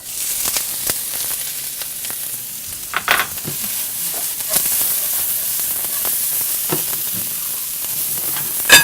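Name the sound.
sauteing sweet onions, peppers and asparagus in olive oil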